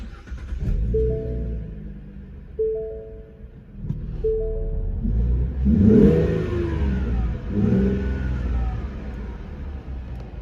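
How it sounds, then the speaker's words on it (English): A Ford Mustang V6 engine idles on a cold start with a low rumble, then revs up in two strong surges before settling, loud and close throughout. "I've heard V6s that sound worse, stock."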